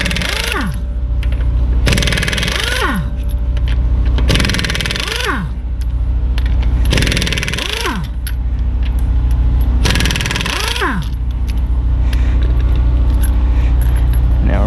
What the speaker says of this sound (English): Next, you gotta take off 5 21mm lug nuts.